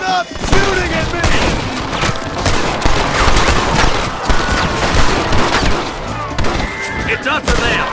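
A loud, chaotic gunfight in Red Dead Redemption, with overlapping rifle and pistol shots cracking in quick irregular bursts throughout, mixed with shouting voices.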